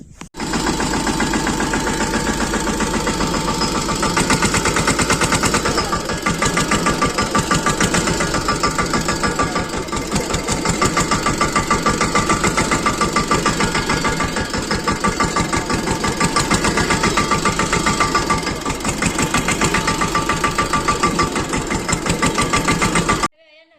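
A farm tractor's diesel engine runs steadily and loudly at close range for the whole stretch, a continuous rumbling idle with a faint knocking pulse and no pauses.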